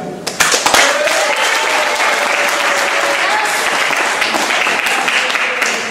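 Audience at a battle rap and beatbox event bursts into loud, close applause with scattered sharp claps, some whoops and voices mixed in, sustained throughout.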